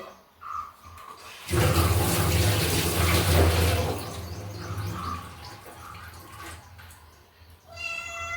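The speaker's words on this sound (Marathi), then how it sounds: "आधी मी रामफळ धुवून देते" Ramphal, or custard apple, is rinsed under a running tap, with a loud, steady gush of water lasting a few seconds before it eases off. A cat meows faintly before and after.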